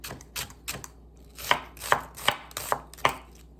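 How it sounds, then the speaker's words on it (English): Onion is sliced thinly with a knife, producing a close series of crisp cutting strokes about every half second, each a short crunchy tap on the board, alone and without speech. "This big chunk here, I'm just gonna slice it again because it didn't quite slice as best as I wanted it to."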